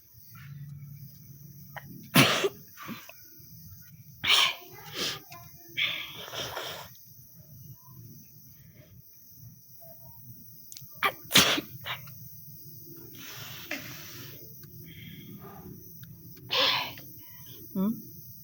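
Several sharp sneezes brought on by tickling, spaced out over the stretch with quiet gaps, sniffs and breathy sounds between them, close to the listener.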